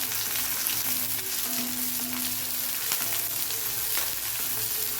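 Shallots and curry leaves sautéing in a pan, a continuous close sizzle and crackle of frying oil with faint stirring, steady throughout and no talk.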